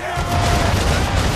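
Ship cannons firing during a naval battle in Assassin's Creed III, a loud rolling volley of booms blending into dense rumble, with voices underneath.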